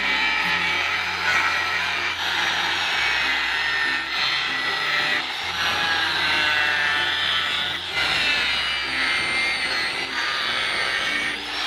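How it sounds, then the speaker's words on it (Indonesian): An angle grinder cuts through acrylic sheet with a loud, high whining buzz that rises and dips in pitch as the load changes across several passes, close up with no speech. "untuk proses pemotongan akriliknya saya gunakan gerinda supaya itu lebih bagus dan lebih cepat juga kalau menggunakan gerinda"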